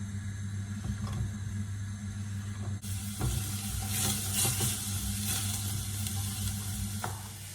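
Chopped onion and celery hit a pan of butter and a little vegetable oil, setting off a steady, close sizzle that swells into louder, denser frying after a few seconds, with faint stirring clatter and a low hum beneath.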